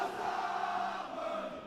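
Crowd at an esports arena for a League of Legends LEC Winter Split match: a dense, sustained roar of cheering voices that stays loud and steady, then tapers slightly at the end.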